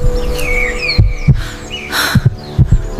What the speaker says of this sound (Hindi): शबरी का दिल जोर जोर से धड़कने लगा।